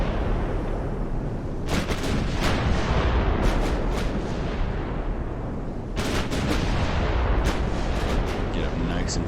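Naval guns fire in a video game battle in Ultimate Admiral: Dreadnoughts, with sharp booming salvos in two clusters over a constant rumbling battle backdrop, moderately loud.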